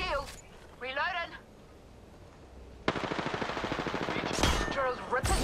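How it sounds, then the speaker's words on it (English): Automatic gunfire in the Apex Legends battle royale game, a dense rapid burst of rounds that runs for over two seconds, with a short burst just before and scattered game voice lines beneath the firing. "I am taking fire, friends. Being shot at."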